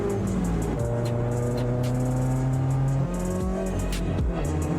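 A right-hand-drive Toyota GT86 with a high shifter, its engine revving loudly and steadily with rising and falling tones, at close range with no talking.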